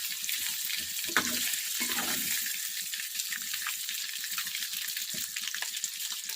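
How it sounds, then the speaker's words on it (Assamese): Pieces of paneer sizzle in hot oil, a steady crackle broken by scraping and clinking of a spatula stirring the pan. "এয়া পনীৰখিনি প্ৰায় ভাজা হৈ গৈছে"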